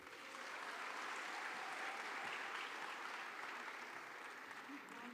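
Steady audience applause at a closing ceremony in Kigali, Rwanda, filling the hall evenly for about five seconds, fairly soft and distant in the mix, after a speaker finishes her remarks.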